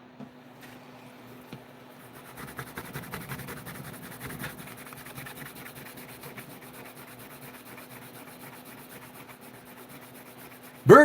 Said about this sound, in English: Blue jean denim's about the best when it comes to buffing leather.